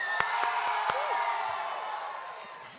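Convention audience at a script reading cheering for Invader Zim, a dense burst of cheering and whoops with some clapping, steady then slowly tapering, with voices mixed in.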